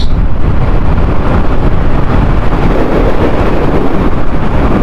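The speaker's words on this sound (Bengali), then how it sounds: "আর বাতাস কি বাতাস" Strong wind roaring steadily and loudly against the microphone, a constant deep rumble with no pauses.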